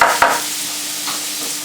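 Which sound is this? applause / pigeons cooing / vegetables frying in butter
vegetables frying in butter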